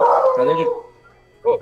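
A dog indoors lets out a short, wavering howl lasting under a second, followed by a brief spoken phrase from a nearby voice.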